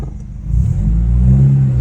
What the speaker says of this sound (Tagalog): Tunog Hellcat daw.